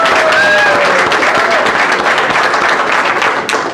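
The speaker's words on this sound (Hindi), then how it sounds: "ताली बजा दीजिए सबके लिए।" A meeting audience gives loud, sustained applause, a dense steady wash of many hands clapping at close range with a few voices mixed in.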